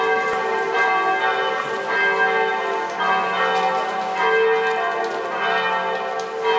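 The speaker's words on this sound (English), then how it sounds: "may as well get a little bit of the bells in here." Church bells ring out in the streets of Siena, Italy: a continuous, overlapping peal of rich metallic tones that swell and fade, fairly loud and carrying, with no talk.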